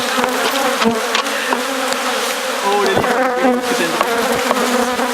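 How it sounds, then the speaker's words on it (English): Angry bees buzz loudly and continuously in a dense, close swarm, with a brief spoken remark over the drone. "Angry bees."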